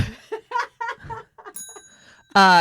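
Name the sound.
bell sound effect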